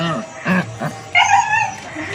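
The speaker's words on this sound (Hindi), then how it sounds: "बहुत तेज गुर्राता है।" A playful puppy growling and whimpering in short yips and rumbling growls close by, mixed with brief human voices talking.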